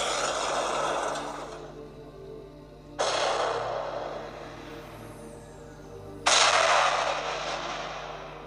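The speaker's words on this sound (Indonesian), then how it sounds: "Sebuah suara seperti ledakan petasan ku dengar pada waktu mataku baru sejenak ku pejamkan" Three loud firecracker-like bangs, roughly three seconds apart, each trailing off in a long echoing decay, with nobody talking.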